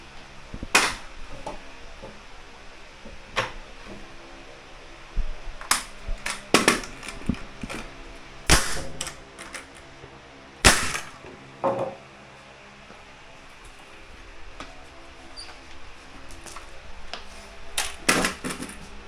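A nail gun drives nails into wood over a flat concrete floor, sharp, loud single snaps spaced irregularly, sometimes in quick pairs, with quieter handling noise between shots.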